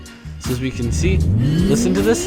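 A 2008 Lamborghini Gallardo in the Southwest Florida video game revs up. The engine note climbs steadily in pitch and grows louder, with a brief tire squeal, while someone talks over the start.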